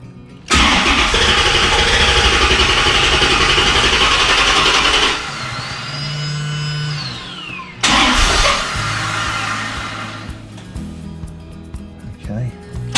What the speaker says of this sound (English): So let's see if we start the car again